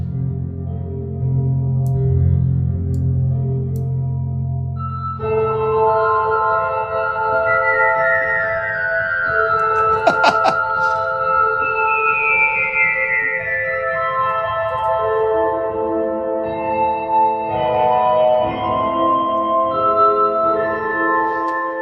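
A loud, sustained synth pad with wide, shimmering tones slowly sweeps and shifts in pitch, swelling with echo and a brief metallic flutter midway, no speech.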